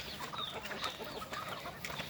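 Thai village chickens clucking softly in a busy farmyard, several birds murmuring at once against steady outdoor background noise, no talking.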